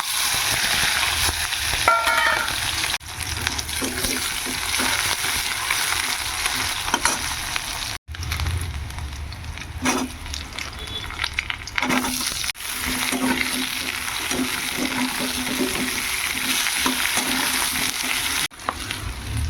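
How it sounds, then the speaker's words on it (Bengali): Onions sizzle and fry steadily in hot oil with black cumin seeds for a Bengali fish curry, a continuous close crackle with occasional stirring scrapes and brief pauses. "এই যে পেঁয়াজগুলো তেলের মধ্যে দিয়ে দেবো।"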